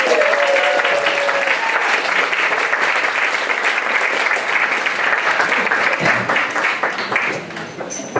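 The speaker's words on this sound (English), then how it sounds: "another round of applause for the bar" Dense, steady applause from a theatre audience at an open stage night, clapping for the bar staff, loud and sustained for several seconds before slowly thinning out.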